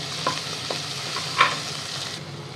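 Ginger, garlic and chili paste fries in hot oil with a steady close sizzle, while a utensil stirs through it in a few light scrapes and taps, one brief louder clatter near the middle.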